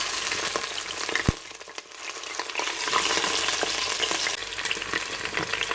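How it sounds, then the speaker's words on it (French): Chicken thighs fry in hot sunflower oil inside a Cookeo multicooker's bowl, giving a steady, dense sizzle with scattered crackles and pops and no talk. "Et j'ajoute mes cuisses de poulet que je vais faire revenir."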